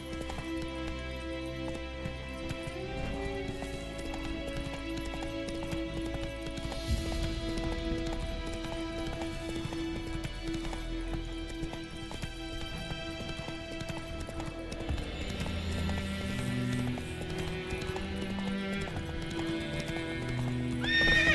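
A horse in The Witcher 3 gallops with rhythmic clip-clopping hooves and whinnies, layered over continuous game music with no talking.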